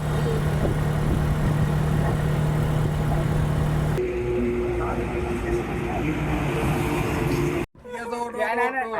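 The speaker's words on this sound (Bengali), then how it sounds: "ওখান থেকে এখন একটা সিএনজি নিয়ে যাচ্ছি ছোট দারোগার হাট" CNG auto-rickshaw engine droning steadily while riding near Sitakunda, a loud continuous hum with wind noise, then cut off abruptly as a voice begins talking at the end.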